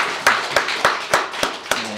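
A church congregation gives a short round of welcoming applause, about seven sharp claps in a regular rhythm, close and fairly loud, with no talking.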